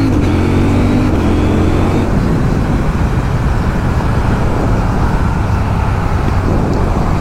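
A CFMOTO 800 NK Advanced motorcycle pulls hard, its engine and exhaust droning loudly with a rising low growl that settles into a dense, continuous roar of wind and motor.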